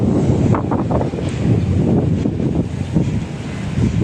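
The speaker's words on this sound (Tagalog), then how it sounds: "Sarap ng hangin dito." Strong wind blows steadily across the microphone, a loud rumbling buffet with faint water sounds underneath and no talking.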